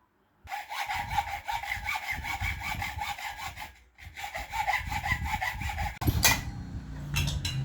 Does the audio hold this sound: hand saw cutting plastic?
yes